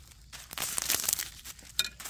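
Plastic mulch film handled around a garden bed while planting ponytail radish seeds: close, intermittent crinkling and rustling of thin plastic sheeting, with soft crackles and a brief sharper crinkle near the end.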